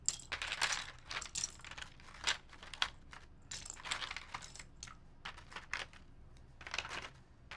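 White plastic keyboard keycaps get handled and sorted close by: quiet bursts of light clicking and clattering as the caps knock against each other, coming in short irregular clusters with small gaps between.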